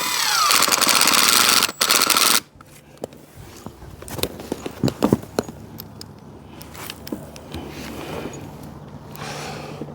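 Driving a screw into a pressure-treated deck post against the frame beam: a loud, sustained power-driver burst that cuts off abruptly, followed by scattered knocks, clanks and handling noises.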